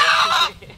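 A white rooster clucks loudly and close by in a short burst on a rural Vietnamese farm, the sound fading into quieter rustling at the end.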